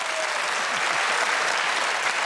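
A studio audience claps in a dense, even burst of applause, loud and close, holding steady for a couple of seconds without cheering.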